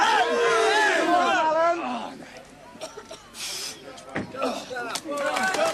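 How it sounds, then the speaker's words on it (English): A local crowd cheers and shouts for a strongman at the 1983 World's Strongest Man contest, loud excited voices first, then scattered claps and calls swelling again at the end. "gets a good hand from the local crowd"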